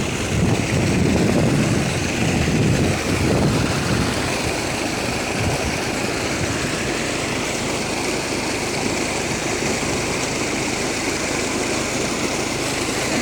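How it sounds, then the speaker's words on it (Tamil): Double water pump forcing water through a 7-inch pipe, a loud, steady engine-like drone with rushing water, constant throughout and heard alone. "டபுள் பம்பு தான் ஓடுது."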